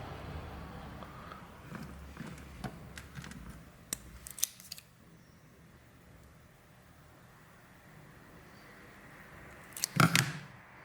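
Scissors snip through the thin cable of a Nintendo 3DS AC adapter during a repair, a few small clicks followed by one sharp, close cut near the end, with no talking.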